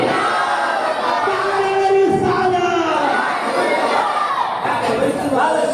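A crowd at a religious gathering answers the takbir call with a loud collective chant, many voices shouting together in a sustained roar, with a single voice leading over the top.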